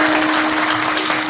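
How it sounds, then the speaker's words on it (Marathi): Audience at a Marathi kirtan clapping for the sound system crew, a dense, steady wash of many hands applauding together, loud and close with no talking over it. "माईक सिस्टीम वाल्याकरता एकदा टाळ्या वाजवा"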